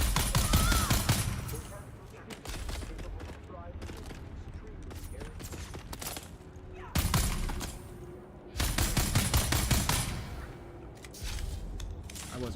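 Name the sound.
gunfire in the video game Dune: Awakening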